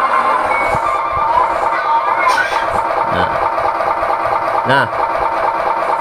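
A handmade miniature RC Hino 500 truck's sound module plays a steady engine drone, with throttle and reverse sounds coming through over continuous background noise while a person speaks briefly.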